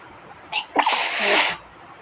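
A single loud sneeze triggered by nasal drops in a home remedy, sharp and close, preceded by a brief intake of breath and trailing off into quiet.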